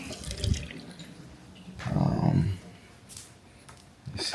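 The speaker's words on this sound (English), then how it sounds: "Alright, I got my hot water going on." Hot water running from a tap, a steady splashing flow nearby that swells into a louder gush midway, with faint talk around it.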